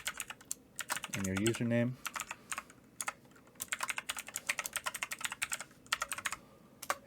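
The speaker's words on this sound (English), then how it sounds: "So you just type in your password" Typing a router login password on a computer keyboard: rapid, irregular key clicks close by, with a short spoken phrase near the start.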